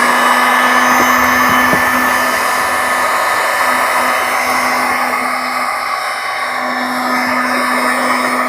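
A heat gun warms adhesive tape on an LED panel being installed on a 2024 Indian Pursuit motorcycle, giving a steady, loud blowing whir with a constant tone throughout and no talking.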